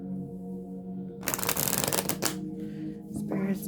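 Oracle cards shuffled by hand: a soft lead-in, then a loud riffling flutter of cards lasting about a second, a pause, and a shorter second burst of shuffling near the end, with a faint voice in the background.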